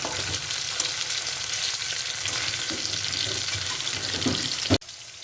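Chicken pieces for chilli chicken fry in hot oil in a pan with a dense, steady sizzle, occasional stirring clatter and a sharp knock before the sound drops near the end.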